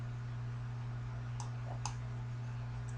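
Mouse clicks on a computer running MATLAB: three faint, sharp clicks spread over a few seconds above a steady electrical hum, with no voices.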